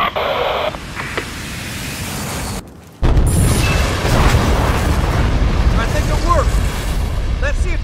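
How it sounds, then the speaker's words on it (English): A heavy bomb drop explosion in a Battlefield: Bad Company battle erupts suddenly after a brief silence, a loud deep boom that rolls on into sustained rumbling debris and noise, with radio-style voices underneath. "Stand by for bomb drop."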